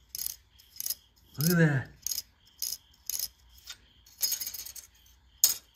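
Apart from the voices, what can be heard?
tapping hardened high-temperature refractory glue, sounding like metal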